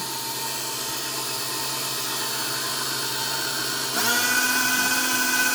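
An electric stand mixer with a beater whirs steadily through coffee cake batter, then its motor revs up sharply into a louder, higher whine for a brief spin.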